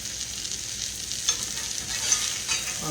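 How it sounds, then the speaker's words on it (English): A hamburger patty and flour brown in a skillet with a constant, soft hiss. Faint stirring scrapes break through it now and then, and no voices are heard. "All right, it's getting brown. Our flour's cooking in there."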